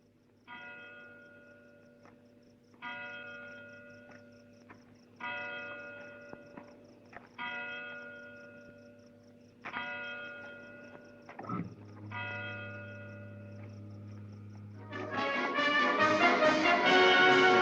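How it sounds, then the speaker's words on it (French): Big Ben's clock bells in London ring in a steady sequence of resonant tolls with long ringing harmonics, each strike decaying before the next, ending in a louder, dense burst of sound at the close. "Entendre sonner les cloches de Big Ben, la célèbre horloge de Londres."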